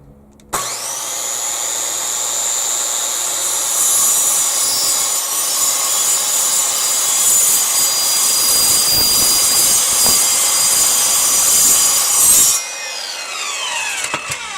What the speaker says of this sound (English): The saw is extremely noisy